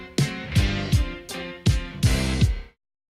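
Short excerpt of a tune: several punchy, stabbed chords with a descending top line, played loud and close in a quick syncopated rhythm before stopping abruptly.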